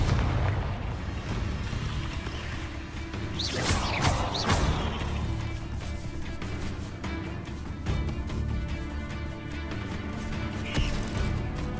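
Magic spell blasts from Bombarda and Confringo in the Hogwarts Legacy video game: dense rumbling booms with sharp bursts around the middle, set within a continuous game soundscape.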